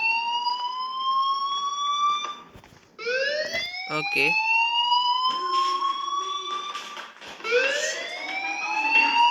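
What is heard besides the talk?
fire alarm ringing in video game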